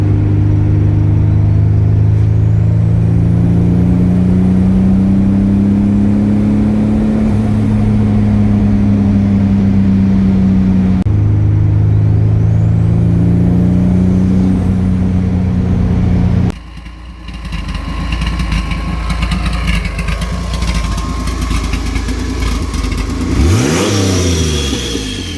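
A Pontiac Fiero with a turbocharged 3800 engine drives and accelerates. A loud, steady engine drone rises in pitch through two long pulls, then turns to a rougher, rumbling roar with a rising whine near the end.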